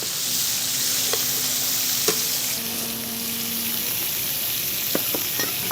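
Seafood sizzles steadily in a hot pan with lemon juice, a continuous close frying hiss broken by a few clinks and taps as the pieces are flipped.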